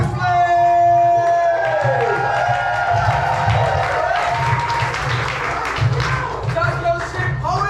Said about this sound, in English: Coming to the stage right now, clap it up for Liz PRISLEY